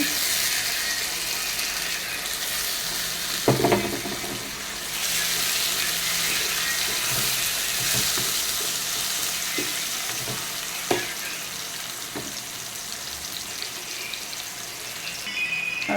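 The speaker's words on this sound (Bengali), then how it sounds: "আমি এখন এর ভিতরে দিয়ে দেবো টমেটো কুচি" Chopped tomato frying with reddened chopped onion in a pan for a Sankar fish dish, a steady sizzle with occasional stirring clatters and a brief water splash, close and moderately loud.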